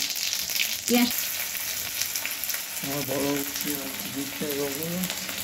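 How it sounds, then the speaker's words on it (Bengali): Ajwain seeds sizzle steadily in hot mustard oil, a dense continuous crackle with a few brief tonal sounds and a voice speaking over the frying. "সামান্য সর্ষের তেল দিয়েছি, আর তাতে একটু জোয়ান ফোড়ন দিচ্ছি"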